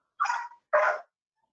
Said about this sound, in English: it seems my dog is a little excited about the award